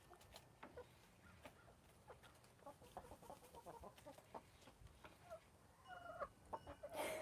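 Chickens in a coop making soft, scattered clucks and murmurs at close range, quiet overall, growing busier and more frequent toward the end.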